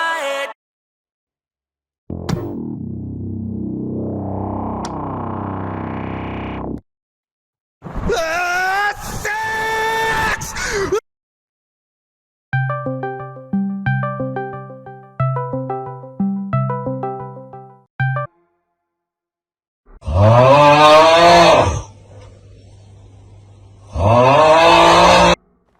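Goat horns modified with new sounds play in several separate bursts: a falling sweep, harsh buzzy tones, a choppy run of short melodic beeps, then loud wailing cries.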